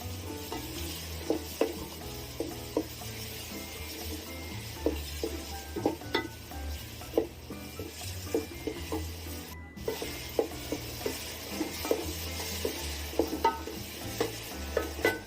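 A spoon stirs cut beans, carrot and potato in a pot for white vegetable biryani, scraping and knocking in irregular clinks over a low sizzle, close and moderately loud, with no talk.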